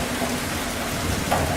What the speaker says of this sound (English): we again receive the same water as rains that pour from the sky onto the earth